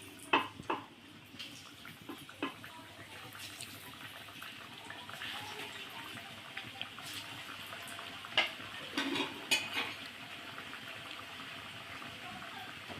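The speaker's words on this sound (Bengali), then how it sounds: "এবার আমি একটা একটা করে ছেড়ে ভেজে নেব।" Chicken puli dumplings go one by one into hot oil in a wok on a gas stove, giving a soft, faint sizzle broken by occasional sharp clinks and splashes.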